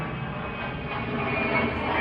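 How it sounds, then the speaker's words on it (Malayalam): A steady, broad roar of an airplane engine passes overhead in Ely, Cambridgeshire, constant and moderately loud with no voices. "ഇപ്പോൾ പറന്ന ഫ്ലൈറ്റ് പോകുന്നു"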